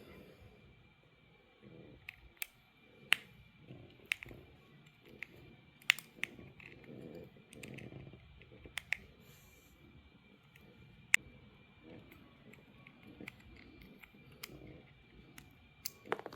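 Small Torx screws are worked out of a Ram 1500 key fob, producing faint, sparse clicks and ticks from a tiny driver against a quiet background with a steady high hum.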